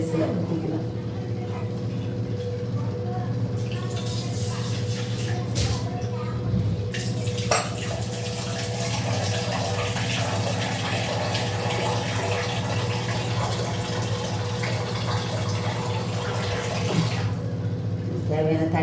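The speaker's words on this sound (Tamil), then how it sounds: "இது புளி கரைசலை ஊற்றிக்கலாம்" Tamarind solution is poured into a simmering fish curry, a steady running, splashing liquid sound that continues for a long stretch with some talking over it.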